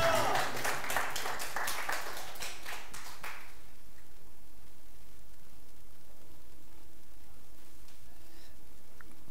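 Church congregation clapping and applauding during a service, a dense burst of claps for a few seconds that quickly fades into quieter room noise and murmuring.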